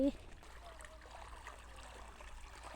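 Irrigation water runs through a garlic field in a steady, faint trickling flow that stays low and even throughout, with no clear talk over it.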